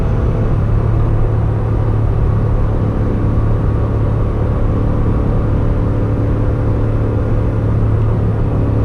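Inside an Acura NSX with a naturally aspirated V6 while driving, a steady droning engine hum and road rumble holds at constant level throughout, without talk.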